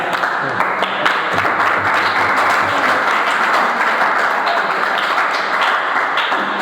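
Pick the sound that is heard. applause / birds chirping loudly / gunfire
applause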